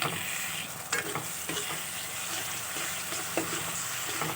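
Spiced masala sizzles in oil in a pan, a steady close frying hiss with occasional scraping stirs of a spoon throughout.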